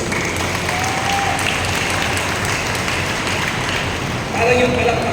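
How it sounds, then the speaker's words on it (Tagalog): Church congregation applauding during a worship service, continuous dense clapping with voices mixed in, ending in a brief louder swell. "Parang yung palakpak nyo yung walang galing."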